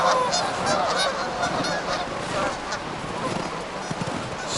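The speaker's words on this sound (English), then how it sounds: "There's thousands and thousands of geese here at what little bit of open water" Thousands of geese gathered at a small stretch of open water along a river, honking densely and continuously in a loud, overlapping chorus with a few sharper calls standing out near the start.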